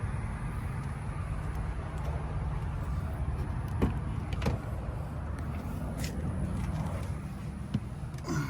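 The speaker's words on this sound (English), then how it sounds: "Press the little button, close the door," A Kia EV6 electric car door shuts with a short thud, followed by the low, steady road hum of the car moving off, with faint clicks and no talking.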